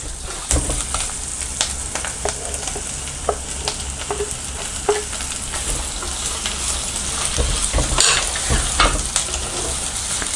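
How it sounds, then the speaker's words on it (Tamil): Onions and tomato sauté with rock salt in a pan for a village-style mutton kuzhambu: a constant crackling sizzle broken by frequent scraping and stirring clicks of a ladle, close and continuous, with no voices. "நல்லா வதக்கி விடுங்க"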